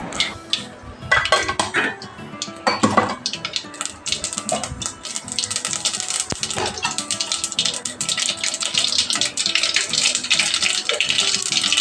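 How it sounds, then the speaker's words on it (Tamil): Mustard seeds crackle and pop in hot oil in a kadai, a dense, continuous spattering of sharp little bursts with occasional louder snaps. "கடுகு போட்டு தாளிக்கிறோம்."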